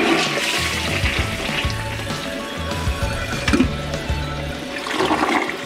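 A household toilet that isn't clogged but flushes poorly runs through a steady, close flush of rushing and gurgling water for several seconds, with no talk over it.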